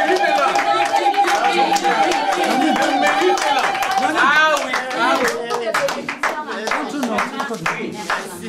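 Clapping from a small audience runs under people talking and cheering, rising to a livelier burst midway through.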